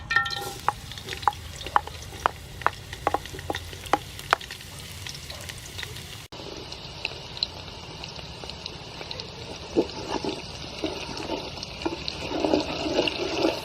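Chopped garlic frying in soybean oil gives a steady sizzle with sharp spatter pops and stirring scrapes, the crackle growing busier and fuller partway through.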